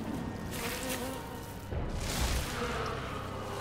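A swarm of bees buzzes loudly and steadily in a video game, a dense droning hum that swells partway through, heard alone without talk.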